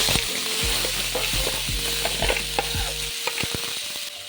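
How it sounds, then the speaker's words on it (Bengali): Cut potatoes frying in hot mustard oil, a loud steady sizzle with repeated stirring scrapes and knocks throughout. "তেল খুব ভালোভাবে গরম হয়ে গেছে। কেটে রাখা আলু দিয়ে দেব।"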